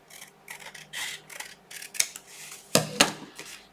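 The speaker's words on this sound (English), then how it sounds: "I'm just going to use my scissors." Scissors snip repeatedly, a run of quick crisp cuts close up, a couple of louder sharp snaps near the end, no voices.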